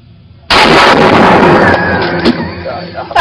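A big gun fires a single huge, close blast that saturates everything, followed by a long rumbling, ringing tail as the shot carries toward a distant target.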